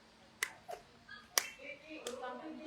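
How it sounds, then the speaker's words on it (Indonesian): A patient pats herself with her own hand during a therapy exercise, making a few sharp, separate slaps spaced unevenly, with quiet speech in between. "kemudian Ibu tepuk sendiri"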